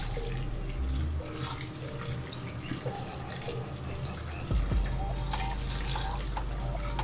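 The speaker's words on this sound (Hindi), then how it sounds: "अब इसमें मैं थोड़ा सा पानी डालूंगी, ठंडा पानी, सो दैट इसकी कुकिंग यहाँ पर स्टॉप हो जाए।" Cold water poured steadily over drained, parboiled basmati rice sitting in a strainer, a continuous close splashing and rushing flow with a brief louder gush partway through.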